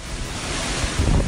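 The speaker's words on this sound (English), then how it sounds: "And massive storm surge turns the streets into raging rivers." Hurricane Maria's storm surge and wind in Puerto Rico roar loudly and continuously as broadband rushing water and gusting wind buffets, swelling near the end.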